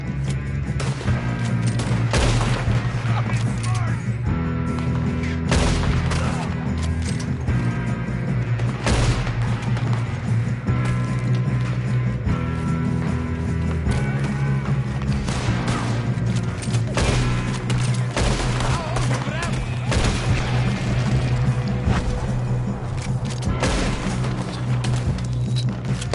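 A Red Dead Redemption 2 shootout at a train, with gunfire crackling steadily through a dense, loud game mix of music and effects that runs continuously for the whole stretch.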